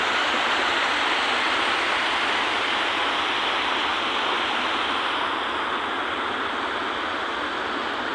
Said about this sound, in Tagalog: Ang ganda ng ilog dito.